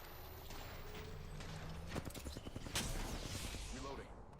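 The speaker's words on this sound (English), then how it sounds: "Reloading." Weapon reloading in a video game: mechanical clicks and metallic rattles of a magazine swap over steady game ambience, with a brief burst of rapid gunfire-like ticks in the middle, fairly close and busy.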